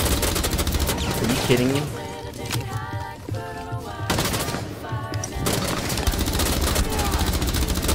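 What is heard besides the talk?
gunfire in the video game Rainbow Six Siege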